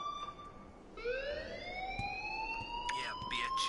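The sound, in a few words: alarm ringing in Life Is Strange video game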